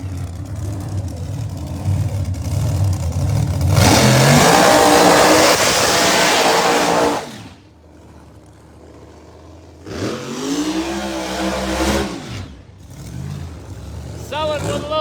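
Pro Mod drag race cars revving at the start line at the Bradenton World Series: a loud, harsh engine roar for several seconds, a drop-off, then another surging rev with pitch sweeps, under an announcer's commentary.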